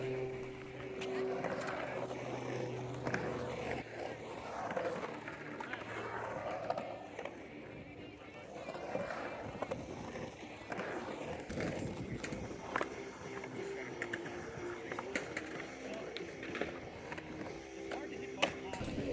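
Skateboard wheels roll and carve around a back bowl at a skate park in cold weather, a steady rumbling grind with scattered clacks and scrapes running throughout, moderately loud and close.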